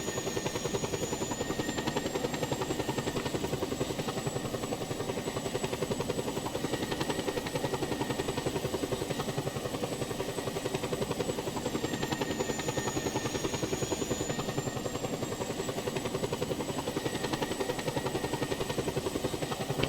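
Helicopter flying in a video game, a steady loud rotor and engine drone that holds for the whole stretch with a slight wavering whine on top and no talk over it.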